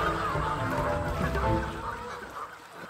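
Flock of geese cackling and honking in a dense, continuous clamor, moderately loud, with no talk over it.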